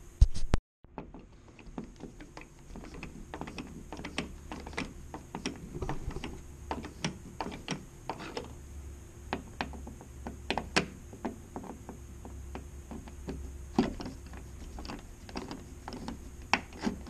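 Screws turned by hand while fitting a Leviton Architectural Edition JBL 8-inch in-wall speaker, a steady run of small close ratcheting clicks and ticks, fairly quiet, with no talking.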